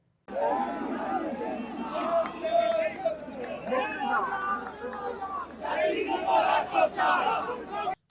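A crowd chants political slogans outside the Lahore High Court, a dense mass of raised voices rising and falling together in loud, continuous bursts with shouting throughout.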